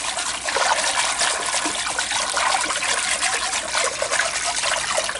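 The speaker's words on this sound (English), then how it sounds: "now I'm going to whisk in some milk" Milk being whisked into a pot of broccoli and goat Colby cheese soup, a continuous close liquid swishing and sloshing at steady loudness with no voices.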